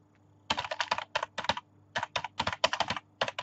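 Loud computer keyboard typing in quick bursts of clacking keystrokes, with a short pause in the middle, close and alone with no voices.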